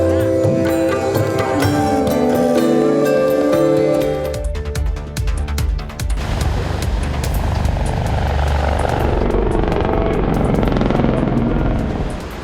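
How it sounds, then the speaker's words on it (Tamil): Helicopters performing at an aerobatic show in Brazil, a loud continuous rotor and engine roar that shifts in tone partway through, heard alone without voices. "பிரேசில் நாட்டில் நடைபெற்ற ஹெலிகாப்டர் சாகச நிகழ்ச்சியை பொதுமக்கள் கண்டு ரசித்தனர்."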